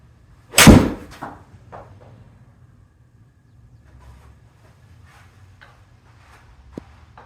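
A golf club strikes a ball in a single sharp, loud impact on a big sweeping draw swing, followed by faint ambient outdoor noise and a few soft ticks.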